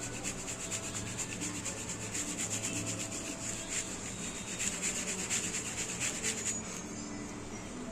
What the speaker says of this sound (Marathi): ती चाळूनच घ्यायची हे अशी चाळून घ्यायची